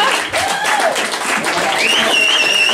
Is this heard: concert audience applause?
yes